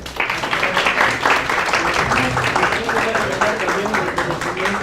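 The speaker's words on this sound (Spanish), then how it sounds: "Pues un aplauso, por favor." An audience applauds at a talk on the challenges facing digital communicators and designers, with steady dense clapping lasting several seconds, loud and close, and voices talking over it.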